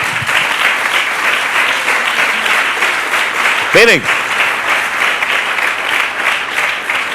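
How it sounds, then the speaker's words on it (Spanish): Church congregation applauding during a sermon, sustained loud clapping throughout, with a brief voice calling out over it near the middle. "¿Le doy un aplauso, Señor?"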